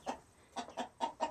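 A free-range hen clucks in five short, fairly soft bursts spaced about a quarter second apart, with a quiet farmyard backdrop between calls.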